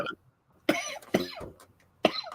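Three harsh coughs, the first short and the next two spaced about a second apart, close and fairly loud in a quiet room.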